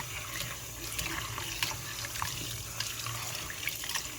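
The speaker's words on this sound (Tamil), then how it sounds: "மீனை இப்போ கழுவுவோம்" A kitchen tap runs steadily while seela fish pieces are rinsed, giving a continuous close splashing hiss of water with small irregular splatters throughout.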